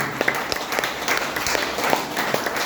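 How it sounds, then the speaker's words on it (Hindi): Steady applause from an audience at an AWPL business meeting, a continuous crowd of claps heard at moderate distance with no talk over it. "जब तक मैं तालियों से सेटिस्फाइड नहीं हो जाऊंगा बुलाऊं नहीं।"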